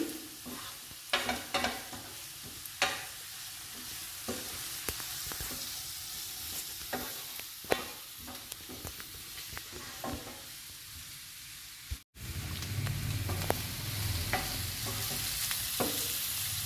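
Masala spices fry in oil while being stirred for a soya chunk, egg and onion curry, a constant sizzle punctuated by repeated scraping and tapping of a spoon against the pan, and the frying grows louder near the end.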